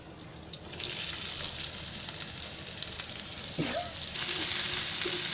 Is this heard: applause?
no